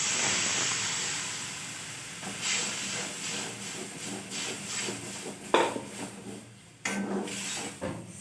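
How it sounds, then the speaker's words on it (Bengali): Boiled lentils go into a pan of frying turmeric, giving a loud, steady hiss and sizzle that fades a little, with clatters and small bursts near the end. "প্রয়োজন মতো হলুদটা দিয়ে দিচ্ছে সুন্দরভাবে ভেজে নিচ্ছি সেদ্ধ করা ডালটা নিয়ে দিচ্ছি"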